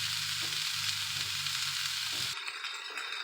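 Onions with mushrooms frying in a pan for Salisbury steak, a dense close steady sizzle throughout, a low rumbling undertone dropping away near the end, no voices.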